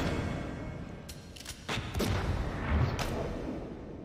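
Gunshots from The Matrix film, a few sharp cracks over a dense rumbling action soundtrack, loud and steady throughout.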